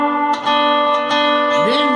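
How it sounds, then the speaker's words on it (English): Lap steel guitar with a slide pinching strings 2 and 3: sustained bright chiming chords ringing alone, with a couple of fresh attacks and a slide gliding upward near the end. "learn how to pinch up on strings 2 and 3 like this with a slide in"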